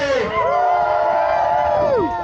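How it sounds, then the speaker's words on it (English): Mountain bike racers at a racers' meeting for a 12-hour single-speed event at Royal Gorge, shouting a big cheer together, a sustained rising and falling whoop from a close crowd lasting about two seconds. "We need everybody to get that heart rate going. On the count of 3. Big cheer."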